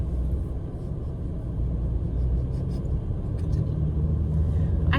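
Steady low rumble inside a moving car, road and engine noise droning evenly with a few faint higher ticks, no voices.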